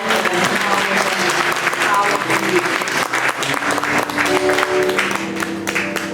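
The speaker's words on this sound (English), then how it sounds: "give them another round of applause." Loud, sustained applause from a gallery audience at an arts event in Richmond, Virginia, a dense continuous wash of many hands clapping without pause, with some cheering voices mixed in.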